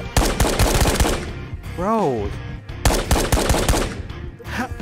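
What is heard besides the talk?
gunfire in video game Ghosts of Tabor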